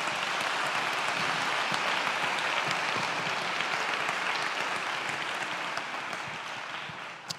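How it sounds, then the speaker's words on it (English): A live hypnotherapy demonstration audience gives a steady, dense round of applause that fills the room evenly and fades slightly near the end. "Let's give this lady a nice big round of applause,"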